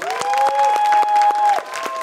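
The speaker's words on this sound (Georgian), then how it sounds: "გთხოვთ, ყველანი, აპლოდისმენტები" Applause at a stage show after a dance performance, a crowd clapping steadily and loudly under a sustained musical tone.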